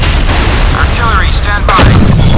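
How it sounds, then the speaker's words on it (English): Missile launch from a warship in the naval combat game Modern Warships: a loud, broad rushing blast swells midway and roars on as a sustained low rumble, with radio-style voices and game effects layered over it. "Missile's ready for launch, sir. Fire."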